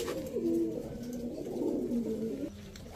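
A pair of Kasuri pigeons coo close by, soft throaty rolling calls repeating over a few seconds, quiet and alone with no talking.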